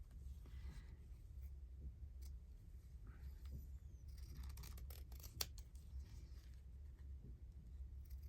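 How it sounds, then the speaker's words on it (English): Scissors snip through fabric during fussy cutting for a botanical journal, faint scattered blade clicks over a low background hum, quiet and close. "I'm going to do a little bit more fussy cutting."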